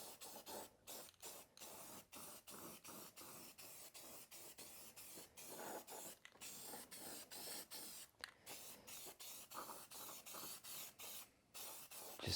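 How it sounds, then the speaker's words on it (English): Satin enamel spray paint hisses from an aerosol can onto a truck battery box in repeated short bursts with brief gaps, close and steady, with no talking. "let's go ahead and throw some paint on this battery box real quick too"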